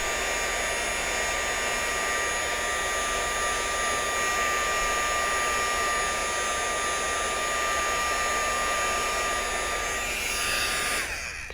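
A heat tool blows steadily at close range to dry freshly glued craft pieces for card making, a loud continuous whooshing hum that holds for about eleven seconds before cutting off.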